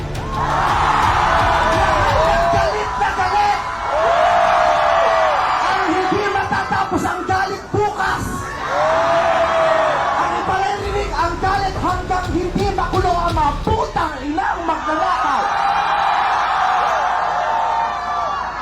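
A large protest crowd shouts angrily in repeated surges at an anti-corruption march, many voices overlapping in a continuous, forceful roar.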